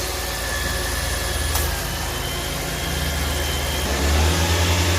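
A 2018 Nissan Kicks engine idles steadily and close by after an oil change, with a low constant hum that rises slightly near the end.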